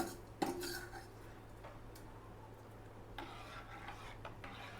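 A spoon scrapes and clinks around inside a pot of sambar as tempering is stirred in, with one sharp knock early on, quiet and close, no voices.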